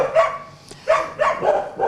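Several dogs barking in a rapid, loud sequence of close, overlapping barks, with strays and local dogs on a town street in Pokrovsk.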